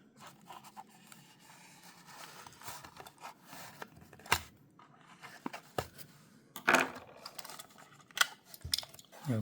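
A Hot Wheels '71 Lamborghini Miura SV die-cast car being unboxed, with close, quiet crinkles, scrapes and sharp plastic clicks of packaging being pried and torn open in irregular bursts.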